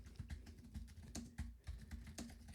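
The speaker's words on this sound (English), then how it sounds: "this is a standard Apple keyboard here, and we're just going to go ahead and type" Fingers type steadily on a standard Apple keyboard in a rapid, close, quiet clatter of key presses with a few slightly louder strokes, and no voice.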